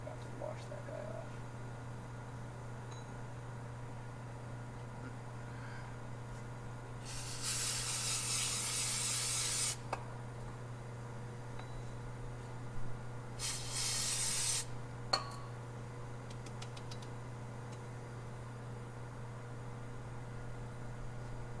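Cleaner sprays from a can in two long bursts onto a Dodge Ram rear axle hub and outer bearing, a steady close hiss over a constant low hum, followed by a brief clink.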